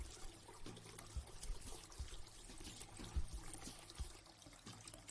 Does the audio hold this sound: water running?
yes